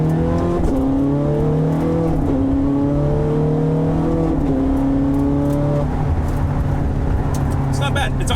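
A car, apparently an exotic such as a Ferrari, accelerates hard through its gears, the engine note rising in stepped climbs with each shift, loud and close, while people talk over it.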